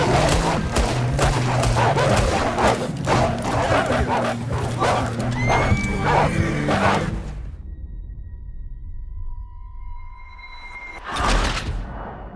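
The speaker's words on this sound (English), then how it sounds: "And the horse bucks them off and you fail the mission." Horse neighing and stamping in Red Dead Redemption 2, loud over busy game action with hoofbeats and gunfire-like bursts, then quieter with a sustained tone before a short burst near the end.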